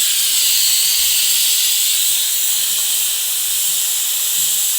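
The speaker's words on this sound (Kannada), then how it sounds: "ವಿಜಿಲಲ್ಲಿ 1 ವಿಜಿಲ್ ಕೂಗಿದೆ" Steam hisses steadily from a pressure cooker whistle while rice cooks in a home kitchen, a continuous loud airy rush with no talking.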